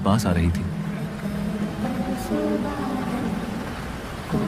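Steady rain falls through a cold, dark night, a soft continuous hiss under a voice narrating over it, with a faint low rumble in the background.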